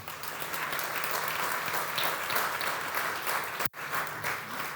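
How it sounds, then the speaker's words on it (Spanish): Church congregation applauding steadily throughout, a dense sustained wash of clapping with a brief cut near the end before it resumes. "Denle un aplauso al Señor, hermano."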